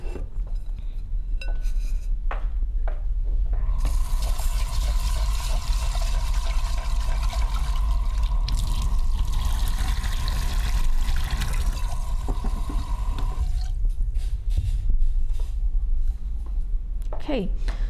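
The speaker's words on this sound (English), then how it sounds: "So what I'm going to do is that I need to wash the rice" Rice being rinsed in water in a home kitchen: a steady running-water wash with faint clinks of a pot, lasting about ten seconds in the middle, with quieter handling noises before and after.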